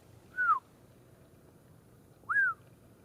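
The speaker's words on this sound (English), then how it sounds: "he whistles to me" Two sharp, rising-then-falling whistles from a person outdoors in a Washington forest cut, roughly 100 to 150 yards off, spaced about two seconds apart over a quiet background.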